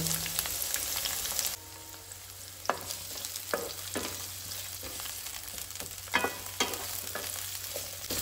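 Onions fry in hot oil with a continuous crackling sizzle and repeated sharp stirring scrapes at irregular intervals, close up, after an initial louder hiss in the first second and a half; no voices.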